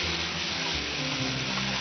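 Poppy seed paste sizzles in a pan as a little water goes in, making a short burst of dense frying hiss and bubbling, close and steady, with no voices.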